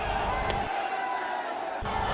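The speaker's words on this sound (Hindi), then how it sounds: "उनकी एक झलक पाने को श्रद्धालु बेकाबू हो उठे, जिससे कुछ देर के लिए अफरा तफरी का माहौल बन गया।" An unruly crowd of devotees surges and jostles to glimpse the Bageshwar Dham head at an event in Sultanpur, a dense roar of many voices with shouts, thinning briefly midway before swelling again.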